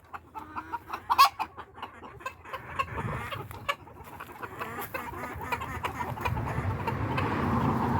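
Chickens cluck in short, scattered bursts near a garden greenhouse, with an occasional louder squawk, while a low rustling wash builds toward the end.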